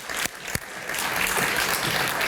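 A crowd at a Juneteenth celebration in Simsbury gives a round of applause, a couple of sharp claps leading into steady, fairly loud clapping that continues to the end.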